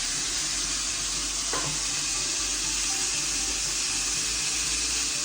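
Food frying in a pan on the stove for a Disney Magic Key Terrace menu recreation, giving a steady, close, even hiss of sizzling that runs the whole time with no talk over it.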